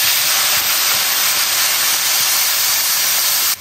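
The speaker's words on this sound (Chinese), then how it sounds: "加入一罐啤酒" A can of beer pours into a hot wok of braised pork, giving a loud, steady hiss of steam and sizzling that fills the whole moment without a break.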